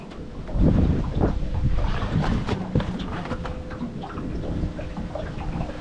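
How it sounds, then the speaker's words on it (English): Steady, heavy wind buffeting the microphone outdoors with a low rumbling roar throughout, plus faint water and boat noises beneath it. "it's windy as all buggery"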